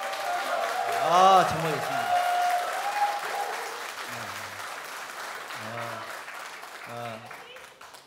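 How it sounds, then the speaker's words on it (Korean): Applause from a debate audience at a Korean political party's candidate-selection debate final, a dense steady clapping wash with a host talking over it throughout. "박수로 다시 한번 격려해 주겠습니까?"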